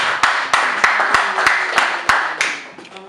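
A church congregation claps in a steady, regular beat, about ten sharp claps spaced evenly, close and clear over a faint murmur of voices.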